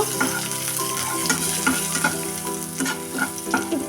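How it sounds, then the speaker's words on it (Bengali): Black cumin, dried red chillies and turmeric fry in oil in a wok while being stirred, a loud close sizzle punctuated by repeated scraping clacks of a spoon against the metal. "এবার এটাকে ভালো করে নাড়াচাড়া করব"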